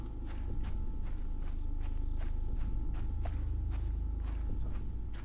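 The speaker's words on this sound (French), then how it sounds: "j'ai peur de mes propres bruits de pas" Steady, evenly spaced footsteps crunching along outdoors in a horror game set at night, each step a sharp crisp hit over a constant low rumble and a faint ringing insect-like drone.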